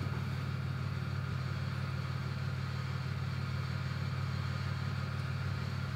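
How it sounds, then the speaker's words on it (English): A truck engine fitted with a Holley Terminator X fuel-injection system runs steadily and loudly, giving a continuous low drone that stays constant with no talking over it. "Truck's apparently just going to run until the end of time. It's super loud."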